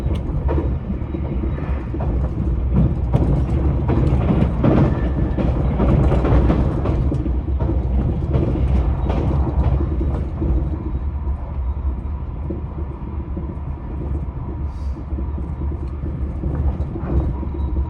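Heard from aboard a Yakumo 273 series limited express train running past Soja station on the Hakubi line: a steady, loud rumble with rhythmic wheel clatter that continues throughout.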